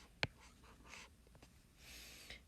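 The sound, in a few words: writing on paper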